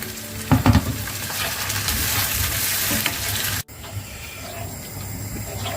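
Tomatoes go into a hot pan for penne arrabbiata, setting off a loud burst of sizzling that settles into a steady, hissing fry, broken by a brief cut partway through.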